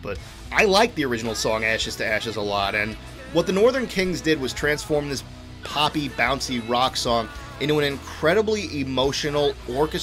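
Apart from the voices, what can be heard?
No everyday noise stands out behind the speech.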